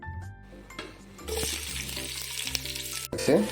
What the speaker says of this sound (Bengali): পেঁয়াজটা দেখতে পাচ্ছ রেস্তার মতো যেরকম ভাজা হয়ে যায়